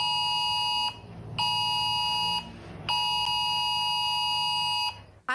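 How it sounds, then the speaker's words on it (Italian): An IT-Alert emergency alarm sounds on a smartphone in Italy, warning of a dam collapse in the Belluno area: a loud, steady electronic tone in three long bursts separated by short gaps, with no voices. "L'allarme è arrivato direttamente sullo smartphone."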